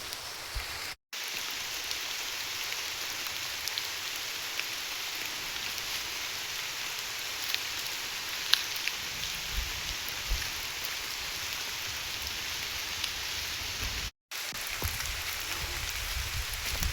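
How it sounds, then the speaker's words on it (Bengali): Steady rain falls in Modhupur forest at dusk, a soft, continuous hiss of drops on foliage that holds evenly throughout, broken only by two brief moments of silence. "বৃষ্টি পড়তেছে।"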